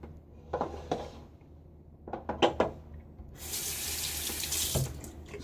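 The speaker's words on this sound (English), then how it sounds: "So I added 3 teaspoons of water so I could back off on that." Tap water running into a sink while preparing shaving lather, a few short splashes and clinks followed by a steady, fairly close stream of flowing water.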